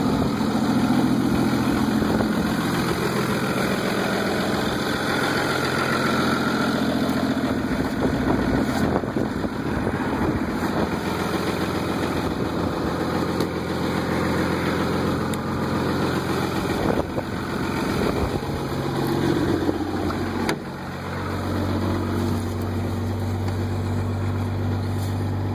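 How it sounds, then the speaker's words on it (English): A Cummins 24-valve diesel with a 4-inch turbo-back straight pipe idles after a cold start, a loud, steady rumbling clatter close up that holds throughout with slight shifts as it settles into high idle. "Yeah, here she goes. She's kicking into high idle."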